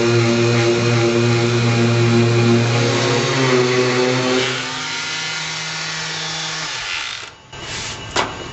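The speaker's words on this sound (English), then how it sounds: "clean it up with a palm sander so you can better see what I'm talking about" A palm sander whirs on car paint with a steady tonal hum that drops in pitch midway, then runs rougher before cutting off, followed by brief clatter.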